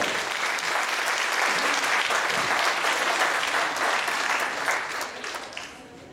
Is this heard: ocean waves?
no